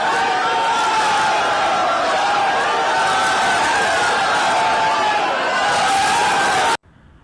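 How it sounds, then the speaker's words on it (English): Large crowd packed into a Kolkata metro station on the Howrah Maidan–Esplanade line, greeting the Prime Minister at the inauguration: a dense, continuous roar of voices and babble, loud and steady, ending abruptly near the end. "A huge crowd gathered in the metro station to greet Prime Minister"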